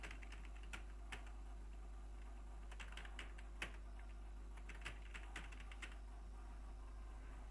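Someone types steadily on a computer keyboard while entering text in MS Word, producing a quiet run of distinct key taps over a constant low electrical hum, with no one talking.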